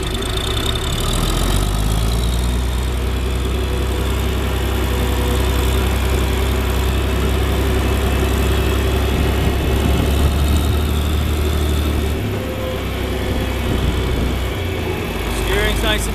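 A John Deere 4010 tractor engine running in gear, a loud, steady, close drone with a heavy low rumble that holds unbroken throughout.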